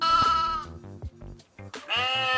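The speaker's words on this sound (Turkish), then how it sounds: "Bu bir koyun." A sheep bleats loudly and close, a wavering cry followed by shorter bleats and another drawn-out call at the end.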